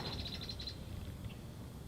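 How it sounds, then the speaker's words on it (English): A quick run of high, rapid bird chirps is followed by a few scattered tweets, faint against a low background rumble. "You can already hear it from all the birds chirping and everything."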